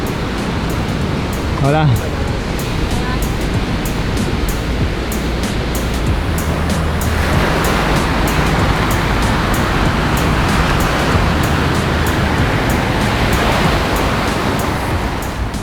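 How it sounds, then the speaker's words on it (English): Ocean waves break on Wizard Beach, a surfers' beach, in a constant loud wash of surf, with a person briefly speaking over it. "This is Wizard Beach, which is also known as the Surfers Beach."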